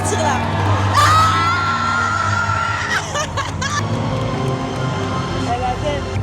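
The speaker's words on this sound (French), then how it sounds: "Ils applaudissent" A concert crowd cheers, whoops and shouts loudly, with applause and excited voices swelling and fading across the stretch, close talk from nearby people mixed in.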